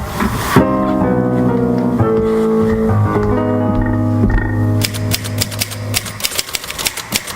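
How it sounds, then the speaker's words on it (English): Typewriter keys clatter in quick irregular bursts as a radio-drama sound effect, mixed with sustained music tones at first before the typing stands out more clearly toward the end. "Typing last night's notes, I see."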